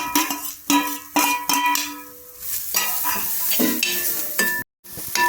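Onion, garlic, ginger and four green chillies fry in a pan for a Kerala-style country duck roast, with steady sizzling and repeated scraping stirs of a spoon against the pan, close and clear, with no talking.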